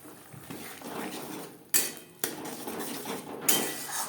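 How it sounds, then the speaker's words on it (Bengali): Spices with turmeric are stirred and fried in a pan over a medium flame: steady scraping and sizzling, broken by three sharp metallic clanks of a spoon on the pan. "তিন চার মিনিট মিডিয়াম ফ্লেমে মশলা কষিয়ে নেব"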